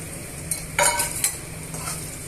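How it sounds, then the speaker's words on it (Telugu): Thinly sliced onion hitting hot oil in a pan for a simple seasoning, a soft steady sizzle with a brief burst of louder crackle and a couple of light scrapes, close and without speech. "ఇలా ఉల్లిపాయ ముక్కల్ని కూడా వేసుకున్న తర్వాత ఇలా అన్నీ కూడా ఫ్రై చేసుకోవాలి"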